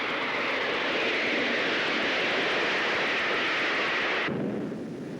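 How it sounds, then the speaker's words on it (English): Aircraft in flight at over 100 miles an hour, its engine and rushing air giving a loud, steady broadband roar close at hand that drops abruptly to a lower, duller rumble near the end. "we take you into the air in a plane itself travelling at over 100 miles an hour"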